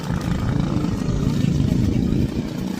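A jet ski engine running at steady throttle, with a rough, low motor drone that stays loud and continuous over water.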